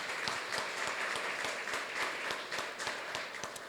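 A large convention crowd applauding warmly, a dense, continuous wash of many hands clapping at steady volume throughout, with no voices rising above it.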